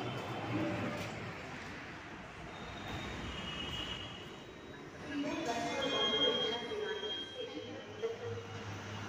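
A metro train moves with a steady rumble and faint wheel squeal, a continuous mid-distance rolling noise that swells slightly midway, with no clear talk over it.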